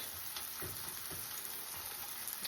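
Eggs fry in a pan for an egg sandwich, a steady close sizzle with soft crackles and popping running evenly throughout, with no voices.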